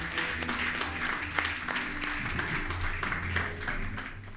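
A crowd applauds with steady, dense clapping that holds the whole time, with a faint low tone underneath.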